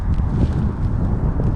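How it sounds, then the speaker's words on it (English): Strong wind buffets a microphone outdoors on a cold, rainy hike in Belgium between Bekkevoort and Werchter, making a steady, loud low rumble with gusts throughout. "It's rainy, it's windy, it's cold, and it might even get snowy."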